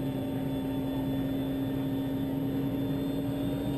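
A light aircraft taxiing for takeoff, its engine giving a steady, continuous drone with a constant tone, moderately loud and unchanging, with no voices.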